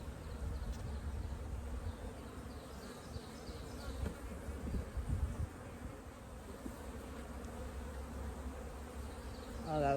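Honey bees buzz around an opened hive during an inspection, a soft, continuous droning hum of many insects with occasional louder passes near the microphone and faint handling sounds.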